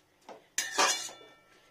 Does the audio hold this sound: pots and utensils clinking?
yes